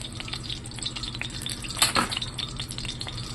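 Ghee sizzling in a hot wok, with a close, steady crackle and light metallic clinks of stirring, plus one brief louder burst partway through. Nobody speaks.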